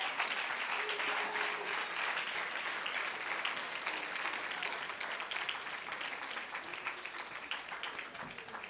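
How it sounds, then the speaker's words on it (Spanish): A church congregation claps loudly and steadily in sustained applause for the Lord, a dense wash of hands filling the room for nearly nine seconds with only faint voices mixed in. "Vamos a darle un fuerte, pero fuerte aplauso al Señor."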